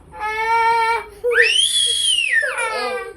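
A small child screams in loud, high, drawn-out bursts indoors, starting after a short whistle-like tonal stretch and trailing off into whimpering, close to the microphone.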